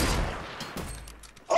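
Gunfire in the battle royale game Fortnite: a loud opening burst of shots and then a few sharper cracks that fade to quieter trailing noise, ending on a sudden loud hit.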